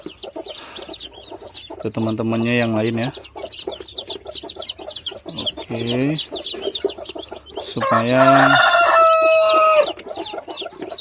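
Day-old chicks being taken from their mother hen cheep in quick, high repeated peeps alongside louder clucking calls from the hen, while a person talks over them.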